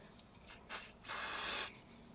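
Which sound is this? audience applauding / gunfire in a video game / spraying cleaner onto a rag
spraying cleaner onto a rag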